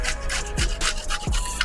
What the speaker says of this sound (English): I'm going to grate some fresh garlic over each of these.